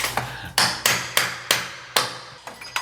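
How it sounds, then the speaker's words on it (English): A hammer strikes a stuck fixture during toilet removal in a house renovation, with about eight sharp, ringing blows at a steady, fairly quick rhythm, close and loud. "Give me that hammer."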